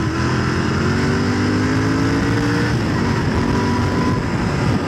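Motorcycle ridden through city streets toward Lajpat Nagar, a steady loud engine drone with rising and falling tonal whine as the bike shifts speed, constant close wind and road rush throughout.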